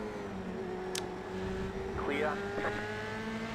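Race car engines from an F1 video game give a steady droning whine with changing pitch as cars accelerate and pass, heard at moderate level beneath the general mix.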